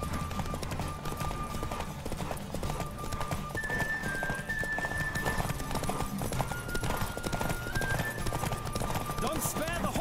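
Horse galloping in The Witcher video game, a fast continuous drumming of hooves under game music and voices.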